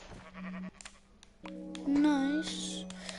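Sheep bleating in a Minecraft-style survival game, a couple of short wavering bleats heard amid game sounds and a player's talk.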